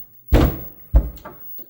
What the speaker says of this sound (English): then you tighten the wing nut to hold that bottom door in